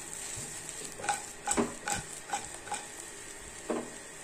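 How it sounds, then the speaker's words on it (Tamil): Sliced raw banana frying in a pan, stirred with repeated scraping strokes against the metal over a steady sizzle, close and clear with no talking. "இத கலந்துறலாம்"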